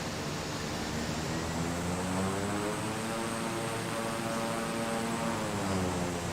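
Steady engine drone of an aircraft taxiing at night in Microsoft Flight Simulator 2020, a continuous even hum with slowly shifting tones, close and unbroken, with no talk.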